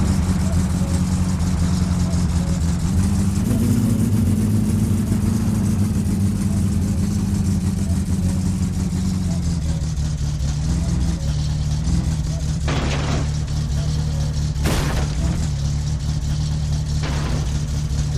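Car engine in the video game My Summer Car, a loud low rumble that rises in pitch as the engine revs, then settles to a steady drone, with brief bursts of other noise near the end.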